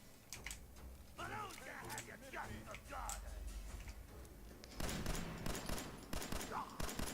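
In the video game Fallout, a 10mm pistol fires a series of sharp, quick shots amid other game sounds, with someone talking over much of the action.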